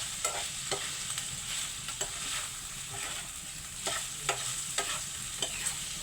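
Sautéed aromatics for a mung bean dish sizzle steadily in a pan while being stirred, with repeated scraping strokes of a spoon over constant close frying hiss.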